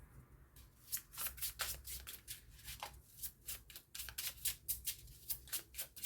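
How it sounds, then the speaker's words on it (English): Tarot cards riffled and shuffled by hand in a steady run of crisp, close flutters and snaps, repeating rhythmically for several seconds with no talking. "If I'm shuffling the cards, it's not because I want the entire deck on the table."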